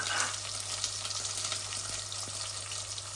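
Ingredients frying in hot oil in a pan, a steady dense sizzle close by with faint stirring, no talking.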